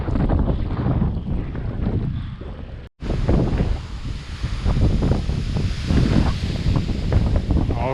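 Strong wind buffets the microphone while riding along on a boat, a loud, steady roar of gusts with rushing water beneath, briefly cut off for an instant near the middle before resuming just as hard.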